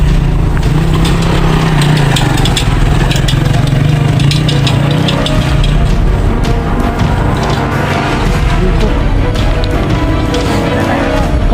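A motorcycle engine runs loudly and close by, a steady rough drone with a clattering, buzzing edge that holds constant throughout.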